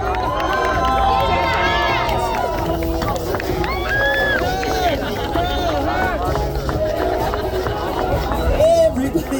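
A crowd packed below the podium at the 12 Hours of Sebring race cheers, shouts and whistles in a loud, continuous roar, with excited voices and yells rising above the din.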